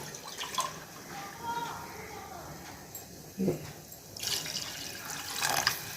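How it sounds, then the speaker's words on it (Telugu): Water is poured into a pot of mutton curry, a soft splashing pour with a brief gurgle, faint under a voice speaking nearby, followed by brighter clattering. "నీరు నీళ్ళు పోసిన ఒక గిలాస్ అడు గిలాస్ సగం పోస్తా"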